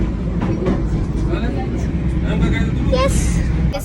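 The Darjeeling toy train runs right through the city between homes, with a steady low rumble and rattling of the wagons heard from on board. Voices talk over it throughout.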